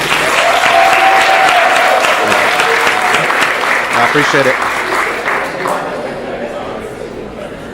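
Lively audience applause at a cocktail event in a gastrolounge, loud at first and gradually tapering, with someone speaking briefly over the clapping.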